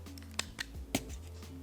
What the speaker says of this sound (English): No, I have scissors.